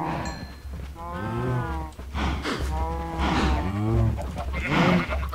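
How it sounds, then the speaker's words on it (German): Minecraft cow lowing repeatedly, a series of drawn-out, wavering moos in close succession, loud and near with no talk over them. "Die Kuh hat da nichts zu suchen."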